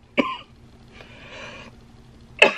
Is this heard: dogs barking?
no